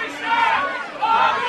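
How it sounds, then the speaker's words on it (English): A comedy club audience yells and chants together in a loud, rising crowd roar, two swelling surges of massed voices close by. "They're chanting for Bobby Shaft."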